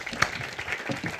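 Audience applause at a French Tech event on refugee employment, a soft, steady patter of clapping that stays at a low, even level with no voices over it.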